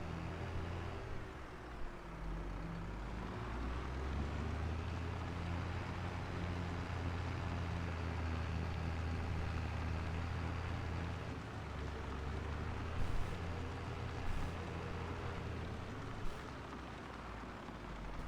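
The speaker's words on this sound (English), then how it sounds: "We are gonna hop in our tractor." A tractor engine drives in Farming Simulator 22 on the Aukrug Homfeld map, a steady low rumbling drone that holds for the whole stretch with no talk over it.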